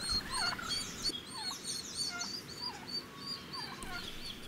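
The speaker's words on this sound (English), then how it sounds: "Turkeys welcomed us as we climbed out of our tents in the morning." Turkeys gobble repeatedly in a morning outdoor setting at a camp in Topes de Collantes, Cuba, their rapid warbling calls overlapping at moderate distance over a steady background of other birds and ambience.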